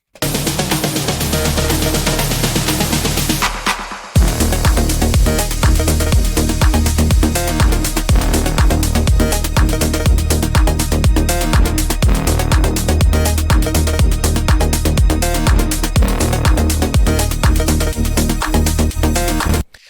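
A brief sustained synth chord gives way to dense, driving melodic techno bass lines stacked together, pumping loudly and continuously in a fast, busy groove.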